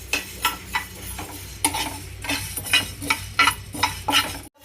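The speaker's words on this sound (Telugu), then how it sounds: "అందుకే నేను లైట్గా ఫ్రై చేస్తున్నాను" Cumin and fenugreek seeds frying lightly in a pan, with a steady soft sizzle under repeated scraping and stirring clinks of a utensil, about ten strokes at a fairly even pace, close and moderately loud.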